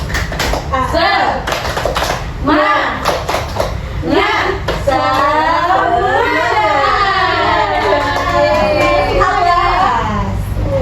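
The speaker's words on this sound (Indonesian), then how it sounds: "hari ini kita tepuk semangat dulu ya, biar semangat semuanya" Children in a classroom chant together in rhythm, their massed voices rising and falling over sharp clapping bursts early on, with an adult speaking briefly at the start.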